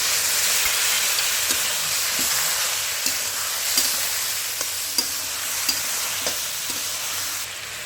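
Shukto vegetables with chilli powder sizzle and fry in a pan while being stirred, a constant close hiss broken by periodic scraping knocks of the spoon against the pan.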